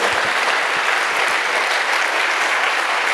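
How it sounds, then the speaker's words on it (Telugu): Loud, sustained applause from an audience at a training reunion event, steady dense clapping filling the whole stretch without letup. "ఒకసారి వెస్టీజ్ గట్టిగా చప్పట్లు కొట్టండి"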